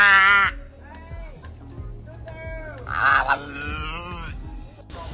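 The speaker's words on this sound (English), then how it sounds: "This seal makes interesting noises trying to communicate something important in a simple way." A seal gives a run of throaty, wavering calls and groans, rising and falling in pitch, loud and close with short pauses between.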